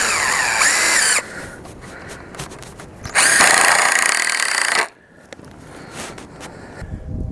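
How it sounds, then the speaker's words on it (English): A power drill drives long screws into wooden roof trusses in two loud, sustained whirring bursts with a pause between, followed by quieter clicks and handling noises nearby. "I'll put a couple of these screws in here."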